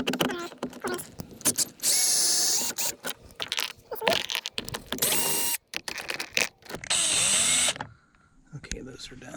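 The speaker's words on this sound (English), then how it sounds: "And then I got to take that screw out and that screw out." A drill or power driver removes 5/16 and 1/4 inch screws from the door panel of a 2009-2014 Ford F150, three loud whirring bursts with clicks between, someone talking over parts of it.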